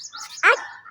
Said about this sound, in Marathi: डॉग.